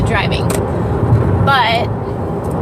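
Steady in-car driving noise, a continuous low road and engine rumble filling the cabin throughout, with a person's voice talking over it.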